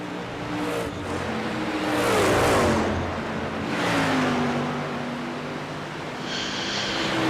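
Race cars in the iRacing video game roar around Watkins Glen, engines revving and swelling as cars pass close by in waves, then rising again in pitch, with no talk.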